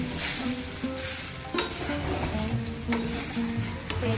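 Tamarind rice ingredients with peanuts and chana dal being stirred and fried together in a pan: steady close sizzle with scraping spatula strokes and occasional clinks, no talking.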